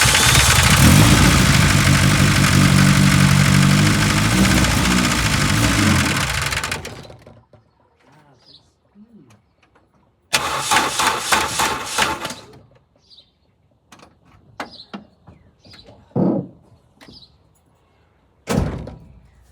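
A 1977 Vauxhall Cavalier fitted with a C20XE engine runs loudly and steadily for several seconds before dying away, followed by a short burst of engine noise and scattered clunks and knocks.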